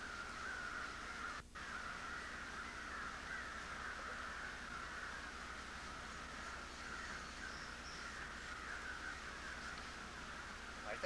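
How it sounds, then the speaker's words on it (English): Crows caw from across a river, faint and distant, in a steady outdoor backdrop of insects with one brief sharp knock partway through. "I think our crow friends across the river must have seen a fish hawk called an osprey that came by"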